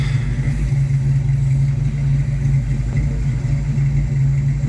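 A stock 1983 Ford Mustang GT 5.0 V8 with some blow-by idles steadily close by, a loud, even low rumble with a slight lope and no talking.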